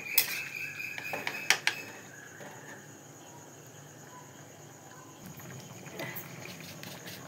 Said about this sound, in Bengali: আলুগুলো দিয়ে এবার কিছুক্ষণ নাড়াচাড়া করবো যতক্ষণ না ফোটা পর্যন্ত